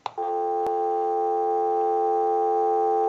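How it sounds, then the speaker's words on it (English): Steady dial tone from a Bell South single-slot payphone with an amplified receiver, a continuous two-note hum that starts after a brief click and holds evenly at moderate loudness with a short tick partway through. "So we'll go ahead and give you the dial tone."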